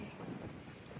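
Strong wind at sea at night blows steadily into the microphone on a crab-fishing boat, a dense, unbroken rush with no voices.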